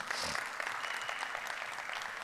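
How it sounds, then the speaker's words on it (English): An audience applauds at a Mether Nexarise welcome event, with a steady wash of many hands clapping at moderate loudness that holds evenly to the end. "give yourselves a round of applause"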